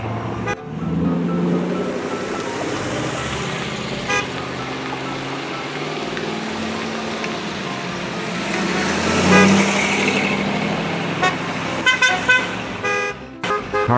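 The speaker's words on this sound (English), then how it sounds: "Cars are now heading back to Festival Plaza where the party continues." Cars cruising the drag in downtown Windsor make a steady roar of engines and traffic, with several horn toots and a brief louder swell as vehicles pass close.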